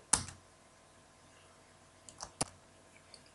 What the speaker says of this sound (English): Close the application by pressing Q on the keyboard.